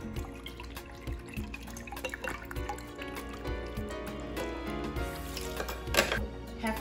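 Red wine vinegar poured for a salad dressing gives a faint liquid trickle with small drips and splashes, quiet and close, with no talking over it.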